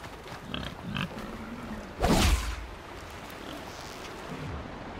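A pig grunts in the video game Horizon Zero Dawn, with a few soft low grunts early on and a louder, brief snorting burst near the middle over quiet ambient game sound.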